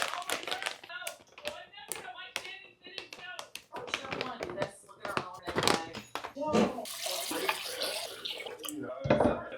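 Water splashes and pours into a pot in uneven bursts, with clinks of metal and people talking close by.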